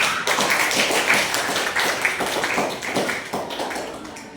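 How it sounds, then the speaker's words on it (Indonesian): Classroom clapping from students in a school practice-teaching lesson, a dense run of overlapping hand claps across the whole stretch, moderately loud and steady with slight swells. "Tepuk tangan dulu untuk kita semua"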